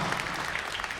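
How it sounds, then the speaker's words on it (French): Audience applause fills a convention panel hall at a Toulouse game show event, a steady dense wash of many hands clapping at once, loud and continuous for the whole second without a break. "On peut les applaudir, s'il vous plaît"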